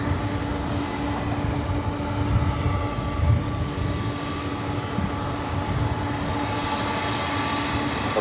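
A 33-year-old Delta Air Lines Boeing 767-300ER jet at LAX roars with a steady, broad engine drone and a faint whine that holds level throughout, with no voices.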